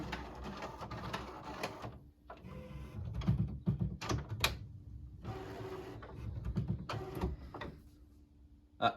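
A printer working nearby: mechanical whirring and sliding passes with clicks and clunks, starting and stopping in bursts over several seconds.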